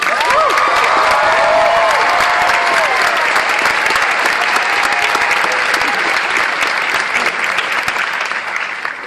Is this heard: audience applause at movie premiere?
yes